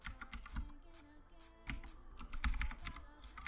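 Quick, uneven clatter of keys on a computer keyboard as a save name is typed in the Fallout 4 Creation Kit, close and moderately loud, with a few heavier key strikes among lighter taps.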